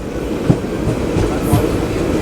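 The Mannargudi–Tirupati Pamani Express, routed via Tiruvannamalai, rolls into platform 1 at Polur station with a steady, loud rumble and soft rail clacks from the wheels, and no voices.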